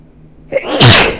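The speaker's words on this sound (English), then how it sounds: "I'm gonna sneeze" A single loud, close sneeze with a quick intake of breath followed by an explosive burst, alone without talk.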